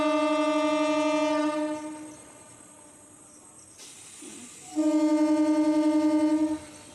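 A train idles at a station, its steady horn-like tone sounding twice with a hissing air release in between.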